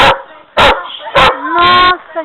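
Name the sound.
dog Sport barking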